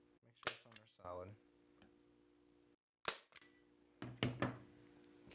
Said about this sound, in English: We want to staple down a few more, put them in there, make sure it's on there solid.